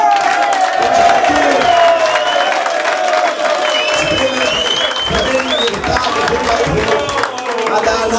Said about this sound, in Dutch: En hij verdient het grote applaus voor alle wedstrijden die hij gewonnen heeft.